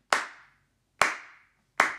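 Three loud, sharp single hand claps from a preacher, close and isolated, each ringing briefly into a reverberant room with silence between.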